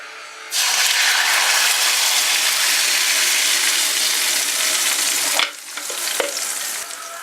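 A sauce is poured into oil infused with a cinnamon stick and bursts into a loud, even sizzle in the pan. The sizzle drops suddenly near the end, leaving a lighter crackle with a few clinks.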